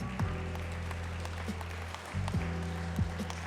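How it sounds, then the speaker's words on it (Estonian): Applause at an international dog show in Tartu for a judge from Finland, a soft, steady wash of clapping from the ringside crowd over a low hum and occasional thuds and tonal sounds. "Teeme aplausi Paula Heikkinen-Lehkonen Soomest"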